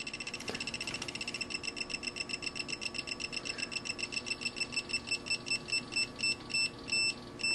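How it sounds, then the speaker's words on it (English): A multimeter's continuity beeper gives faint, rapid electronic beeping in steady pulses over a low hum, growing more distinct toward the end. "you notice you can hardly hear the beeper"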